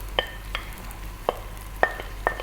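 A potato and cabbage mixture for bubble and squeak is scraped into a hot pan, with about five short, sharp scraping strokes spaced unevenly over a faint steady hum.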